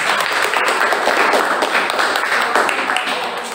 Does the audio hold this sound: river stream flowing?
no